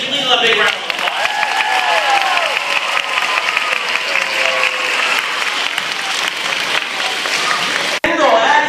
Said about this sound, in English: Give Leela a big round of applause.